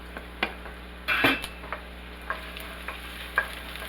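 Onions and garlic fry in hot oil for Spam fried rice: a constant low sizzle punctuated by sharp utensil clinks and one louder scrape against the pan.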